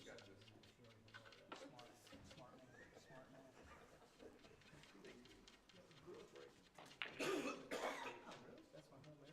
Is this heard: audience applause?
no